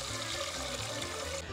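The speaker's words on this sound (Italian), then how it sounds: "Il primo passaggio per la carbonara è mettere l'acqua e la pasta assieme." Water pours steadily into a pot holding dry pasta while a carbonara is being made, a continuous splashing rush that fills the whole short span with no talking.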